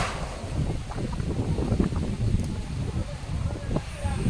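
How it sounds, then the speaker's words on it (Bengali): Gusty wind outdoors on a rainy day near a train station platform, a continuous low rumbling buffet against the microphone that swells and eases unevenly throughout. "ত্রিশানের চুলগুলো দেখছেন কেমন উড়ছে হাওয়ার জন্য"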